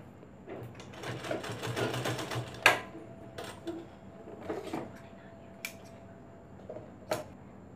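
A sewing machine stitching a blouse runs in a fast rattling burst for under two seconds, then gives a few short separate clicks and taps nearby, with a faint voice in the background.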